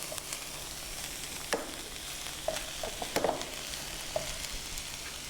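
Eggs cracked into the center of a pan and frying among other ingredients, a steady soft sizzle with occasional crackles and light pops, plus a few sharp clicks and taps of a utensil against the pan.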